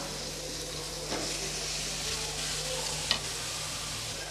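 Cut drumstick pieces go into a hot pan for a village-style dried anchovy curry and are stirred, giving a steady close sizzle with a couple of sharp scraping knocks from the spoon.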